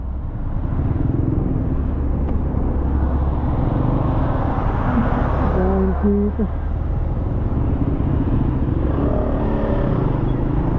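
Loud, steady road traffic rumble heard from a motorcycle in heavy, congested traffic near a broken-down truck, with engine drone throughout and someone speaking briefly over it.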